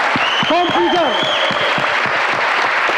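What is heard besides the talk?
audience applause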